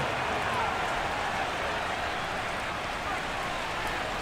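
Steady rain hisses over a football stadium in Madden NFL, an even wash of noise throughout, with commentators talking over it.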